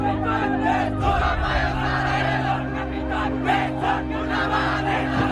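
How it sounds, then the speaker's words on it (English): Large crowds of Gen Z protesters chant anti-government slogans on the streets of Kathmandu, a loud, massed roar of voices rising in rhythmic shouted waves that carry on without pause. "lakhs of Gen Zs took to streets chanting anti-government slogans in capital city of Kathmandu"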